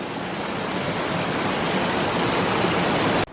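A waterfall and the mountain streams feeding it at Daringbadi rush with a dense, steady roar that is loud and unbroken for a few seconds, then cuts off abruptly. No voices are heard.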